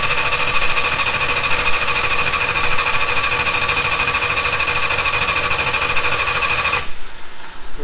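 A freshly installed small-block V8 in a Nova runs steadily at a loud, close idle with a constant mechanical clatter, then cuts out sharply near the end.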